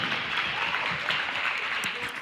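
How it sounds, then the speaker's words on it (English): Steady audience applause at a bike show fills the room, a dense even wash of clapping that holds at moderate loudness from start to finish. "Let's give them a big round of applause"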